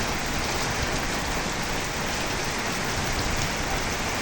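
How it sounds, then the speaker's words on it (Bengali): Heavy rain pours steadily on a rural homestead with a vegetable plot, a dense, continuous hiss of drops on surfaces at an even loudness, with no voices. "তাই দেখেন বৃষ্টির ভিতরে আপনার প্রচুর বৃষ্টি হইতেছে।"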